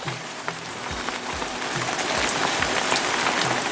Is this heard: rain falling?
yes